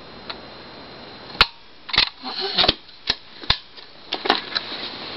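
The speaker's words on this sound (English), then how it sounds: "And you can see the shutter work." A vintage Polaroid instant camera with no film loaded, its shutter fired several times in a row, producing sharp, close mechanical clicks and snaps spaced irregularly over a quiet background.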